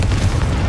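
A Confringo fire spell explosion in the Hogwarts Legacy video game, one short deep booming burst with a rumbling low-end tail, loud and close.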